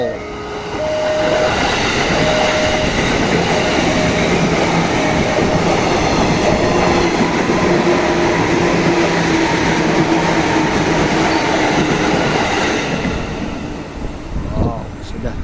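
Trains pass very close to the rail track on a windy day. A loud, sustained roar of wheels and rattling carriages goes on for about thirteen seconds, with whistle-like tones inside it, then it fades away and a few rustles follow.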